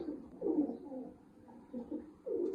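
Pigeons coo in soft, low, throaty bursts, a few close calls spaced across a brief moment with no talking.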